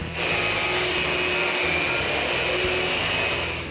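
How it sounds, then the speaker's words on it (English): Power sander working across the top of cedar benches, a steady close whirring drone with gritty rasp that holds even throughout. "The very last operation is to sand the top of the benches."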